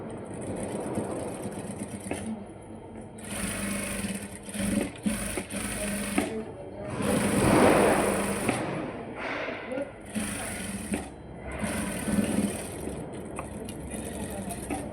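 A sewing machine stitches a katori blouse in steady bursts, running and pausing repeatedly at close range, with a voice talking quietly underneath.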